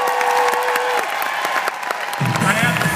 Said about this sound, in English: Can we give one more round of applause for Penney Park?